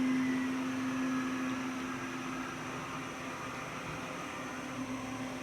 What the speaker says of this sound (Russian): какую высоту, в принципе, робот-пылесос будет сейчас у нас покорять